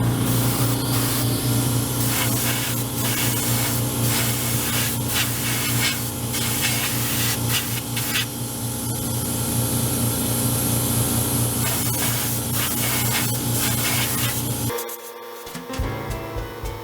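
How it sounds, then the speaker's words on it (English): Air compressor running while an airbrush sprays paint onto HO scale model cabooses, a continuous close hiss with a mechanical drone beneath, briefly dropping out near the end. "Compressor's coming on."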